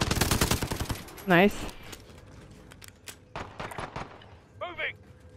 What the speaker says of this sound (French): J'entends que ça tire.